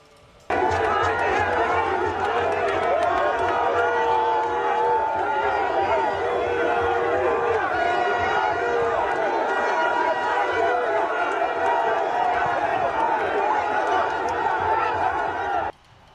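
A large crowd of fans in Korhogo, near the border between Côte d'Ivoire and Mali, welcomes the Mali national team with sustained, loud cheering and chatter that fills the whole stretch, with voices throughout.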